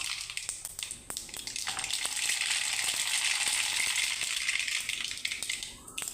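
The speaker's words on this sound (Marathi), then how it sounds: "जिरे मोहरी तडतड झाल्यानंतर" Cumin and mustard seeds crackle and spit in hot oil in a kadhai, a dense, steady sizzle with scattered sharp pops running throughout, close and fairly loud.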